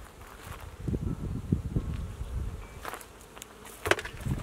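Honey bees buzz steadily around a hive during autumn syrup feeding, forming a close, continuous drone with a few louder passes near the microphone and no talking.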